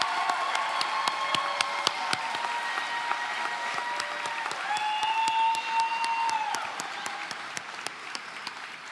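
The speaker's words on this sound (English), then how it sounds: "Let's give one more round of applause to our class of" Sustained applause from a graduation ceremony audience for the class of 2024, a dense steady wash of many hands clapping throughout, with a faint voice or tone rising briefly midway.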